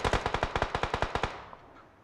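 Rapid automatic gunfire in BGMI, a burst of about a dozen sharp evenly spaced shots, loud and close, followed by a short fading echo.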